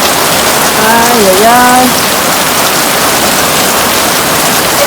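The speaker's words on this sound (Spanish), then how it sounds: "¿Viste tormentón?" Heavy rainstorm pouring down, a dense constant hiss of rain loud and close throughout, with a woman's brief exclamation heard over it near the start.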